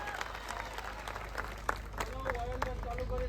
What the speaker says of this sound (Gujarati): એમને તાળીઓના ગડગડાટથી વધાવો